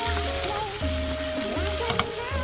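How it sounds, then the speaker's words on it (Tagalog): Garlic, onion and ground meat are sautéing in a hot pan, giving a steady, close sizzle. A low, regularly pulsing hum runs underneath. "igigisa ko na nga dito ang bawang sibuyas. Ilalagay ko na rin ang giniling."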